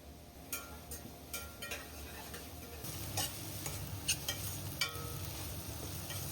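Onions frying in a pan for a chicken pulao, with a steady sizzle and repeated scrapes of stirring; no one speaks over the cooking.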